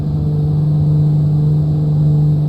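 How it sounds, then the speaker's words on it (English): Steady, loud, droning hum of a Black Square Piston Duke's single live piston engine at reduced power in a flight simulator over the Grand Canyon, with the other engine failed, holding constant throughout without speech. "We'll just reduce our power slightly here as well now on the live engine"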